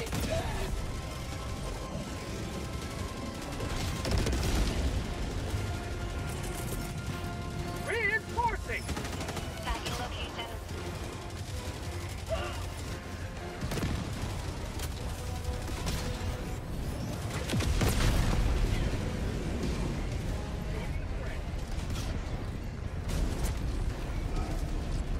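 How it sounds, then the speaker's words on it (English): Continuous gunfire from a sentry turret in Helldivers 2 fighting bots, dense and rattling amid crashes and mechanical noise, with people talking over it. "I'm glad my sentry decided to just shoot everything"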